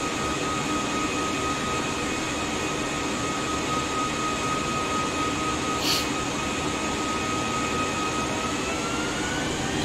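Small plane in flight between Queenstown and Christchurch, New Zealand: a steady, loud engine drone with a constant hum, heard from the cabin for the whole stretch without talk.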